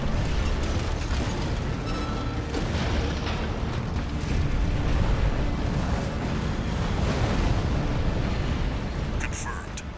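In the Armored Core 6: Fires of Rubicon mech game, the Juggernaut blows up in a loud, sustained explosion: a dense, roaring boom and rumble that fills the whole stretch, with brief crackling bursts near the end.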